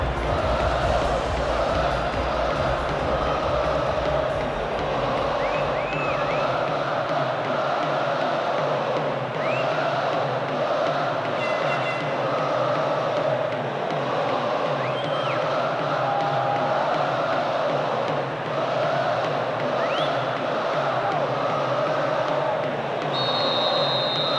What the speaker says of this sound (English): Referee gets the game underway, and just listen to the crowd.